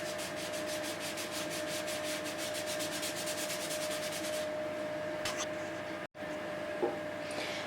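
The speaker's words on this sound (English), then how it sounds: "Then you're just smudging it." Drawing medium is smudged across paper in a quick run of close, even rubbing strokes that continue steadily for several seconds, then stop, leaving a couple of faint scuffs.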